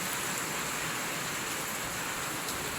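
Steady rain falls in a broad, even hiss with no breaks in a provincial Philippine village, moderately loud and close, with no voices.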